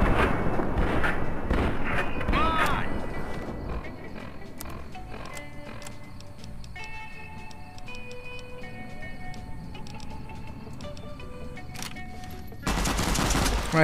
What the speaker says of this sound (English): Right here I use my 9mm submachine gun